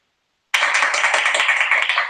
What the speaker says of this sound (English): built-in applause is always good